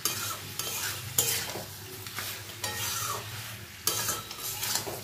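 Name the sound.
frying fish head with potatoes and pointed gourd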